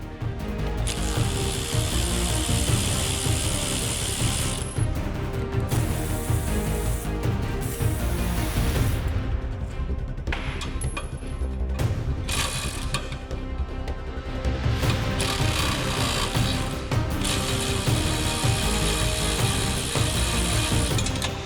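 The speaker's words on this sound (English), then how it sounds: "On the hard to reach ones, I use my 1/4" drive and a little stubby 45." A 1/4 inch drive ratchet with a stubby extension loosening transmission pan bolts on a Land Rover LR3/LR4, producing close, rapid clicking pawl runs repeated in bursts with brief pauses.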